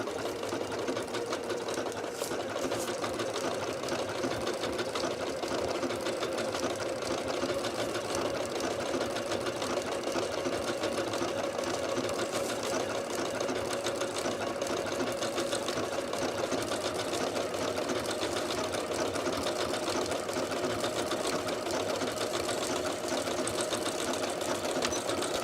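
A Janome Horizon Memory Craft 9480 sewing machine runs steadily and close up, sewing an imitation hand blanket stitch with a continuous fast mechanical whirr and needle rhythm throughout, with no talking.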